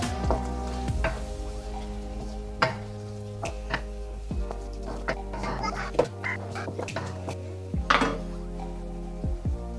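Ground beef and tomato stirred in a sizzling pan, with repeated scraping and clanking of a utensil against the metal in an irregular rhythm, close and moderately loud.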